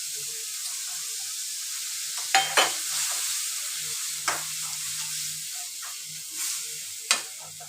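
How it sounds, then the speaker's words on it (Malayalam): Green chili and ginger garlic paste frying in a pan, a continuous close sizzle broken by several sharp stirring scrapes and clinks of a utensil against the pan. "നല്ലവണ്ണം പച്ചമണം മാറുന്നത് വരെ മൂപ്പിക്കുക."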